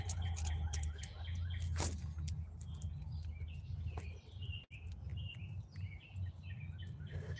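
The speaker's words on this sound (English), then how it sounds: "birds are still just going at it" Birds chirping outdoors at night at a campsite, many sharp tweets and calls scattered densely and steadily over a low continuous hum, near and far voices overlapping with no talking.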